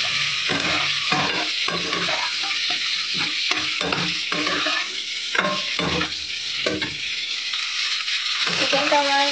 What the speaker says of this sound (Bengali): এই আলু ভাজার তেলটাতে আমি ধুয়ে রাখা চিকেনটাও ভেজে নেব